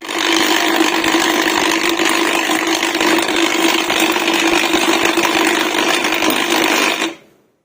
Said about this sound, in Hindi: चलते हैं ग्राइंडर की तरफ।